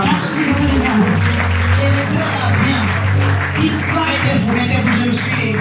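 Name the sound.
audience applause for the king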